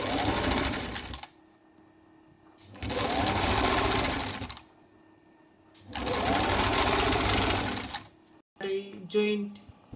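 A sewing machine stitching a front-open jacket runs in three long bursts separated by quiet pauses, then a short final burst, close and steady.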